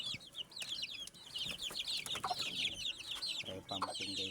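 Backyard chickens cluck busily at feeding time, a dense chorus of short overlapping calls from a flock of about twenty-one birds, near and steady, with faint low background noise.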